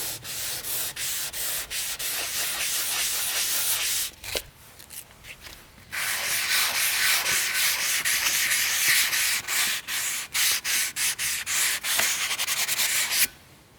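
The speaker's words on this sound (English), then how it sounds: "tried to wet sand as many of the imperfections as I could" Primer on a mountain bike frame is wet sanded by hand in rapid, rhythmic back-and-forth rasping strokes. The strokes pause briefly around the middle, then resume close and steady with no voices.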